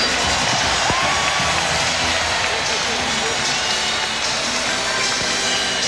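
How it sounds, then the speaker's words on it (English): A Madison Square Garden crowd roars in a sustained ovation for the Knicks at a 1992 NBA playoff game, a loud, unbroken wall of cheering and applause filling the arena from start to finish. "a rousing ovation from this Garden crowd"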